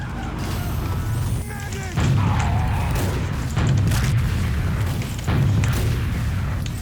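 Deep booms and crashes of gunfire and explosions come from a Team Fortress 2 match, recurring every second or two in heavy bursts under faint game noise.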